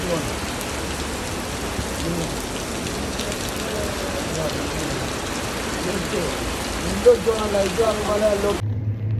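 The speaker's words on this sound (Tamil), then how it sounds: "அருமையான மழை" Steady heavy rain pours down continuously in Jeddah, Saudi Arabia, with a few louder splashes near the end before it cuts off.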